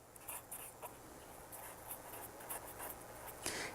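A marker writes on a classroom board during a grade 4 and 5 lesson, giving faint scratchy strokes in short bursts with a quiet room behind them.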